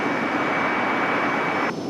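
A heavy jet aircraft at Raleigh-Durham (RDU) airport gives a brief, loud, steady roar that drops slightly at the very end.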